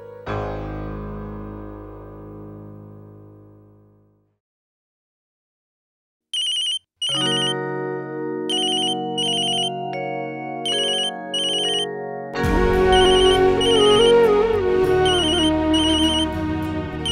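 Phone ringtone from a call to a mother that goes unanswered, a melodic electronic tune repeating loudly in several phrases after a quiet, fading opening, with no voice answering.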